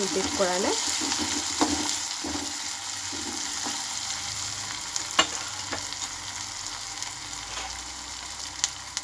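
Coriander leaves frying in hot oil in a pan while making vegetable upma, a steady loud sizzle with occasional stirring scrapes and small pops throughout.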